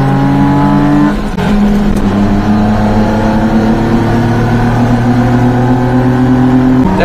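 A mini truck fitted with a larger 32mm eBay carburetor accelerates hard in second gear, its engine droning loudly and steadily with rising pitch, very close throughout.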